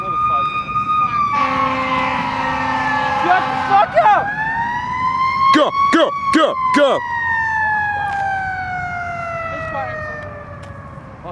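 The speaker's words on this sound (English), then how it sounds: "Oh, another ambulance." An ambulance siren wails loud and near, sweeping up and down continuously, with a burst of rapid yelping in the middle, while people shout excitedly over it.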